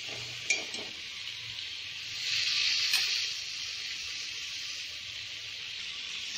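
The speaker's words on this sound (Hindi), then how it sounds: "आलू ऐड करने के बाद भी हम कम से कम आधा मिनट इसको मसाले के साथ भूनेंगे" Potatoes and soya chunks fry with spices in a pan, giving a steady hiss of sizzling oil that swells briefly in the middle, with a few light clinks of a spoon against the pan.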